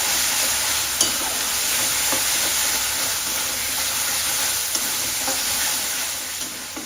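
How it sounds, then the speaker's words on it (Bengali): Masala for Bengali rezala, sweetened with extra sugar, sizzles steadily in hot oil while being stirred, a continuous close frying hiss with faint scraping strokes and no talking. "এবার মশলাটা ভালো করে কষাবো।"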